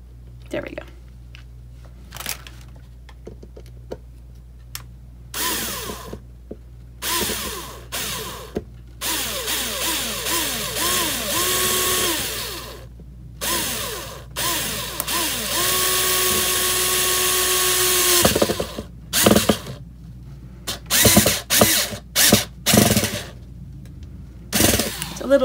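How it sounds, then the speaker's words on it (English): A power drill whirs in repeated bursts, straining and grinding as it drives a screw into a piece resting on Dixie cups, with stops and restarts and a brief voice in between. "Little hard because I'm drilling on top of these Dixie cups"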